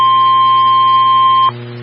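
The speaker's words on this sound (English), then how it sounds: "The preceding signal was a test of the public warning alarm system for NOAA All Hazards radio station, KEAS-C63." A NOAA All Hazards weather radio public warning alarm tone test from station KEAS-C63, broadcast by the National Weather Service in White Lake, Michigan: one steady, loud electronic tone held for about a second and a half, then cut off abruptly over a faint hum.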